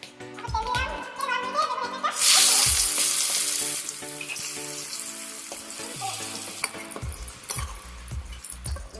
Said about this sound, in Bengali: বেগুন ভাজা হয়ে গেছে, এবার বেগুনকে উঠিয়ে নেব।